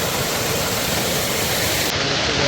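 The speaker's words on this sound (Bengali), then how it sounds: "এই হচ্ছে ঝর্ণা" Water crashes over a rocky waterfall close by, making a loud, unbroken rushing roar with no talking.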